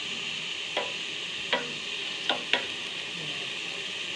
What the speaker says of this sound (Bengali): চাটা ফুটে গেছে।